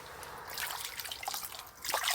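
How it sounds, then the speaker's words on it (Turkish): Tomatoes are washed by hand in cold well water, giving soft close splashing, dripping and trickling with light sloshing and no talk. "Kuyudan buz gibi suları doldurdum. Yıkıyorum."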